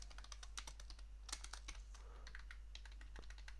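Code being typed on a computer keyboard: a quick, irregular run of close, crisp key clicks with short pauses, heard alone against a faint background hum.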